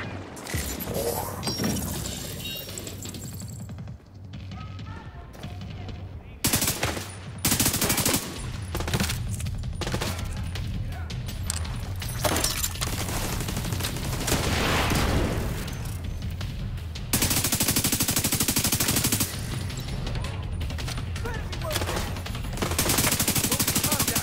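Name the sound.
gunfire from the video game The Division 2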